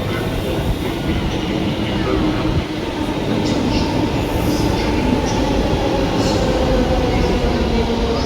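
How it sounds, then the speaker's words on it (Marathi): A Mumbai metro train bound for Versova rumbles into the station, a loud continuous roar of wheels on rails with faint high squeals above, steady throughout. "फायनली आमची आता वर्सोवाला जायची मेट्रो आलेली आहे बघा"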